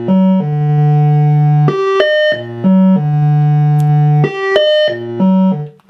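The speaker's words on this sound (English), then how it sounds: "that is the sound of the sine wave of the oscillator" Eurorack oscillator in a Synthrotek Atari Punk Console setup, its sine wave stepped by a 16-step sequencer: a steady, loud electronic tone hopping between low sustained notes and brief higher ones in a looping pattern, with no talk.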